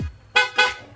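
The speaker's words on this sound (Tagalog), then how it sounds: "pa-activate naman ang loud horn" A loud aftermarket horn on a Yamaha Sniper 155 motorcycle, sounded twice in quick succession as two sharp, bright blasts close by.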